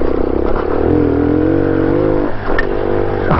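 A Honda Classic Trail 125cc knock-off motorcycle runs a lap, its engine droning steadily and close, pitch rising and falling with throttle, with a brief dip and clatter partway through.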